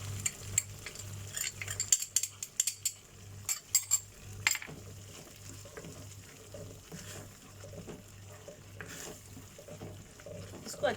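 Powdered spices — black pepper, white pepper and fennel — being stir-fried in a pan for malai chicken seekh biryani, with clinks and scrapes of a spoon against the pan over a faint sizzle and a low steady hum.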